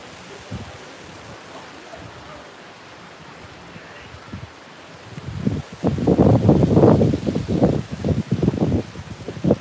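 Surf on the beach at Orange Beach, Alabama, rushes and breaks in repeated washes. It is quieter at first, then louder and closer, with wind buffeting the microphone.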